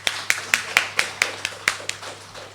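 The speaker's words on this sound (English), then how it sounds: "So round of applause." Scattered applause at an achievement ceremony in Saint Lucia, a few distinct hand claps in a loose uneven rhythm, fairly close, with faint room noise under them.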